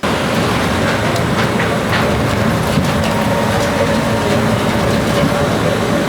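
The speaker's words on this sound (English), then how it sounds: "The train is now working again" An airport train in Hong Kong rumbles steadily along, a loud continuous low roar with faint rattling and clacking, heard from inside or very close.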